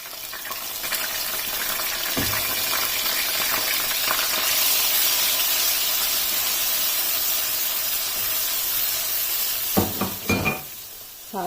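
Garlic ginger paste sizzles loudly in hot oil with whole black pepper, cloves and a black cardamom, a steady close hiss, with a few clanks of a spoon stirring near the end.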